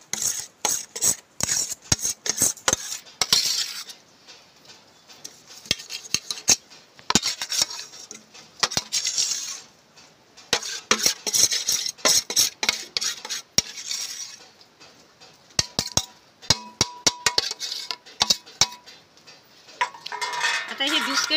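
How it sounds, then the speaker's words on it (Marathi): Biscuits crushed by hand in a bowl to make a biscuit cake on a wood-fired stove, heard as dense, irregular clinks, taps and scraping rustles that continue steadily throughout with no talking. "पूर्ण हाताने बारीक केलं, तुम्ही मिक्सरवर करा"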